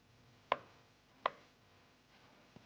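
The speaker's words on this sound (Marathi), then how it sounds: "पनीरचे बारीक बारीक तुकडे करून घ्यायचे" A knife chops paneer into small pieces on a board, giving two sharp, close thuds about a second apart and a fainter third tap near the end.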